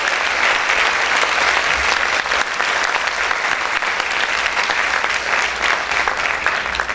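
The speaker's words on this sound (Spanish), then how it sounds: "¿Cuántos pueden aplaudir fuerte al Señor?" Loud, continuous applause from a church congregation during a Spanish-language sermon, steady dense clapping throughout with no break.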